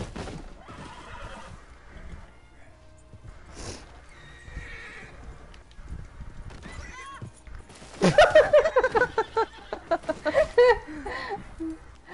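A horse in Red Dead Redemption 2 neighs loudly several times in a burst of whinnies, with hoofbeats clip-clopping earlier and faint background sounds beforehand.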